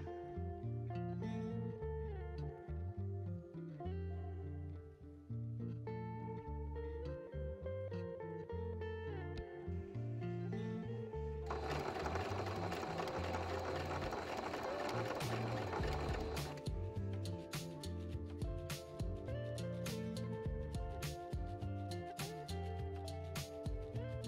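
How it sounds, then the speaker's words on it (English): Sewing machine stitching along a traced line on a fabric hexagon coaster, running in steady bursts with a rapid rhythmic whir and a brief faster stretch midway, close and fairly quiet. "Sew along the traced line."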